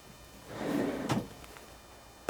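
A kitchen drawer in an ITINEO CJ660 2024 compact camper van slides along its runners and shuts with a soft clunk, close and alone in a quiet interior.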